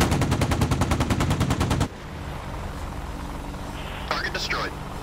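An AH-64D Apache's gun rips off a rapid, loud burst of evenly spaced shots in the DCS game, stopping abruptly after about two seconds, leaving a steady helicopter rotor and engine drone with a brief radio voice afterward.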